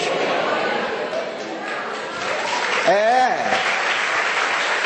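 Church congregation applauding during a Sunday service, a dense steady wash of clapping with talk and a rising voice over it.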